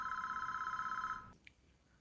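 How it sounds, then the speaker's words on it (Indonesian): Telephone ringing in a tense scene from the 2000 film American Psycho, a steady electronic ring trilling for over a second before cutting off abruptly, followed by a faint click and quiet room tone. "terdapat suara telepon dari tunangannya yang mengakibatkan dia kehilangan momentum untuk membunuh Mbak Jen."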